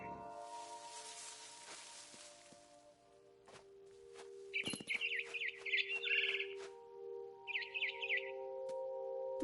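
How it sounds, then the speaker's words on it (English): Short barn swallow chirps in a few quick bursts, fairly close, over a quiet background with a low steady hum and occasional light taps. "Then I heard chirping outside my window. It was a barn swallow going back to her nest."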